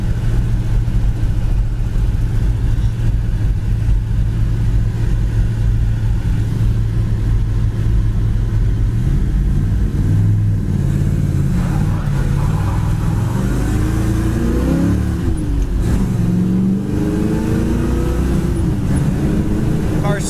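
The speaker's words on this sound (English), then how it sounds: "This car accelerates great." A 1967 Chevy Chevelle SS convertible's engine hums steadily at low revs from inside the car, then rises in pitch as it accelerates, with road and wind noise growing underneath.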